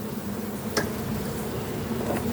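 Honeybees buzzing steadily at an opened beehive during a brood inspection, a dense continuous hum close by with a faint higher tick or two, no talking.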